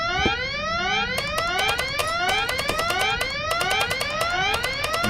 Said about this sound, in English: Why did that alarm go off again?